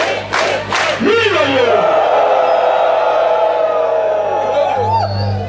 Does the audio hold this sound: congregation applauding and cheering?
yes